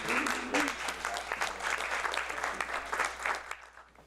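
Warm applause from an audience at a book lecture concert welcoming a professor to speak, steady clapping that fades out at the end, fairly soft overall.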